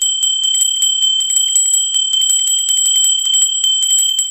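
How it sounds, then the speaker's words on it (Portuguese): A bright notification bell sound effect of rapid, shimmering metallic dings in a continuous flurry, loud and close, with no talking over it. "Sininho tocou, é nova postagem."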